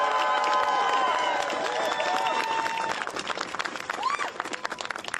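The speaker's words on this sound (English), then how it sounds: "if we can have one last round of applause for Tasha Van Auken" An audience gives a round of applause at a New York City mayoral press event, clapping with some cheering that starts full and thins into scattered claps.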